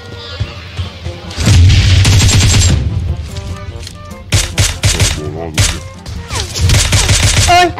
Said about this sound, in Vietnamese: nó bắn súng lục.